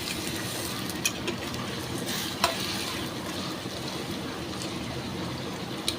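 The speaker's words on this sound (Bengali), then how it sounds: "পেঁয়াজটা সুন্দর করে একটু একদম রং ধরা পর্যন্ত ভাজবো।" Onions frying in a mix of oil and ghee for mutton pulao, a steady broadband sizzle with occasional stirring clicks and scrapes of the spoon against the pan throughout.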